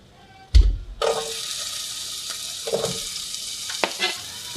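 Vegetables tipped into a hot pan burst into a loud, steady sizzle after a brief clatter, with a few soft stirring knocks over the continuous frying hiss.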